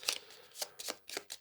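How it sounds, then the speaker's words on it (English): A deck of cards shuffled during a solo tabletop game, four quick riffle bursts in a row, close and crisp with no talking. "giving my deck a shuffle"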